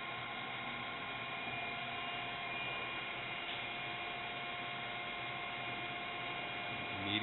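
A Harrison Alpha 1550 metal lathe runs in medium gear with a steady, low motor hum and a faint tonal drone. The sound stays even throughout and is fairly quiet, with no speech.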